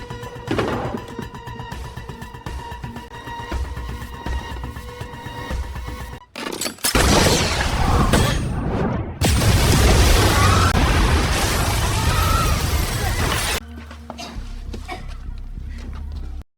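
A film bomb explosion erupts into a sustained loud roar of blast and debris lasting several seconds before cutting back to a quieter ambient scene.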